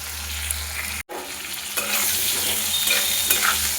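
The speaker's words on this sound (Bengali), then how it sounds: "আলুগুলো ভাজা হয়ে যাবে" Potato pieces fry in hot oil with five-spice seeds, two bay leaves and a pinch of salt, giving a steady, close sizzle that swells after a brief dropout and keeps crackling to the end.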